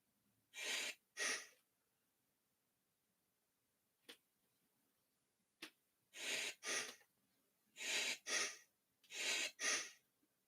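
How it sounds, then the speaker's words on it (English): Heavy, close breathing from someone lifting a weight, coming in loud paired huffs and gasps separated by silent pauses. "You hear me breathing?"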